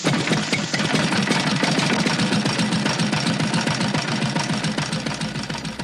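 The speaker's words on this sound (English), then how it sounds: "But the compressor experiences altitude problems of its own." Air compressor motor running at high altitude on Lake Titicaca, fed pure oxygen through its carburetor; a steady, loud, rapidly chugging engine drone with a knocking pulse that holds throughout with no talk.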